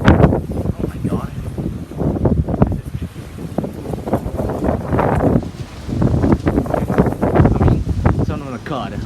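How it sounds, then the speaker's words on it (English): Strong wind buffets the microphone outdoors in loud, gusting bursts of rumbling noise, with excited voices talking and exclaiming over the roar. "Wind is strong!"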